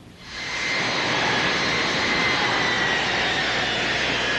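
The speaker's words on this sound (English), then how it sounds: "This plane from Detroit, sent by the Ford Motor Company." An aid aircraft from Detroit, sent by the Ford Motor Company, roars steadily with a loud engine drone and a thin whine as it arrives at an earthquake relief effort in Mexico, with no voices.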